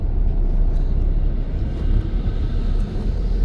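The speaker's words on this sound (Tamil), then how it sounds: "இங்கே கூட ஒரு லாரி ரொம்ப ஸ்லோவாக போயிட்டுருக்கு" A lorry crawls slowly along a forest road in the Thoppur forest area, a close, steady low engine rumble with no voices.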